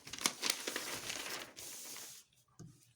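Paper bodice pattern being cut out, crisp crinkling and rustling of paper with a few sharp snips, close and fairly quiet, fading near the end.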